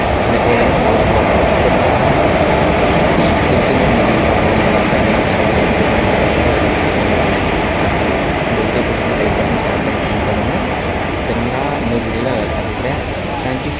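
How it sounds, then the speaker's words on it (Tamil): A loud, continuous rumble and rattle of a train on the rails fills the whole stretch, dense and unbroken, with voices faintly mixed into the noise. "அடுத்தது நம்ம ஊருக்கு கிளம்புறதுக்கு ட்ரெயின் வந்தாச்சு"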